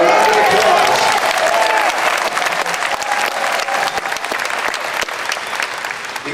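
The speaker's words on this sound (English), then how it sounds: "By a round of applause" A Tea Party convention audience in Daytona gives a sustained round of applause. The dense clapping is loud at first and thins gradually, with a few sharper claps standing out.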